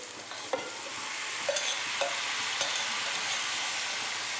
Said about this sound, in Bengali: এবার সবজিগুলোকে একটু ভালো করে সাঁতলে নিয়ে নরম করে নেব